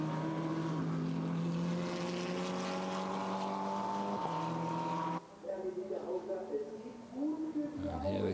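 GT4 race cars pass on the final lap of a GT4 Central European Cup race at the Nürburgring, their engine whine sweeping and fading under continuous commentary.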